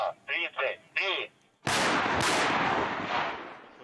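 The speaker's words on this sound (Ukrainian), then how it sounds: "Артилеристи відпрацьовують ураження позицій супротивника." Artillery piece firing on a training range in the Ukrainian conflict zone: one loud, sharp blast with a long rolling echo and a second report inside the tail, after a few bursts of radio-like voice.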